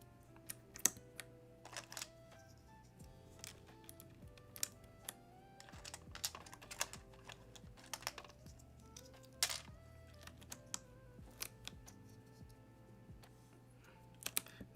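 Keycaps clicking and clattering on a JTK mechanical keyboard as they are pried off and handled, irregular close taps and clicks with small bursts over a quiet background.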